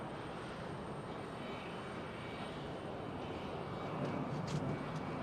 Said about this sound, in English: Just keeping an eye on that 747, I don't want to miss it. She's still taxiing.